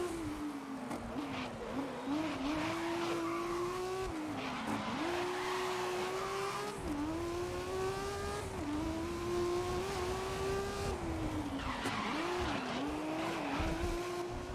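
A race car's engine at full throttle in GRID (2019) screams through repeated gear changes and revs, with tire squeal as it corners hard, loud and continuous with no talk.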